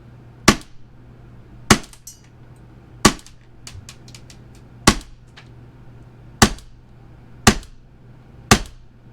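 An AAP-01 gas airsoft pistol fires eight sharp, loud cracks at roughly even intervals, each a crisp snap with brief clatter of the slide, over a quiet background with no talking.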